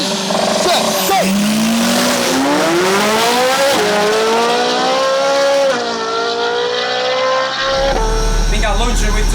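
A 700HP 1.9 TDI diesel launches against a 600HP 4.5L Ferrari V8 in a drag race, engines screaming through rising gear pulls with brief tire squeal, loud and close throughout.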